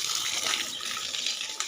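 Water gushes steadily from a pump motor's outlet, a dense close rushing hiss that keeps up without pause for under two seconds.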